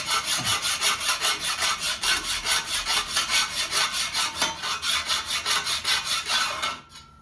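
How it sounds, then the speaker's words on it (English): A hand metal file scrapes back and forth across a Jeep JK plate holder in a steady rhythm of about four rasping strokes per second, loud and close, lasting several seconds before stopping abruptly, with no talking. "the high spots show up because the file's scraping it, but not in the low spots"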